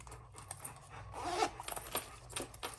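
A zipper being worked on a pocket of a handmade sewn sling bag: several quick, close rasping zips and rustles in short bursts, with one longer pull in the middle, against quiet room noise.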